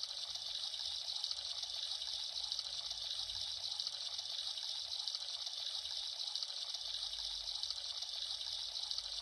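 Shower water runs steadily in a Roblox Brookhaven roleplay game, a soft, even hiss of spray that continues without a break for the whole stretch and stays fairly quiet.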